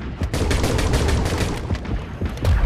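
Gunfire in the underwater diver-versus-shark game Depth, a close, loud burst of rapid repeated shots lasting a couple of seconds with no talking.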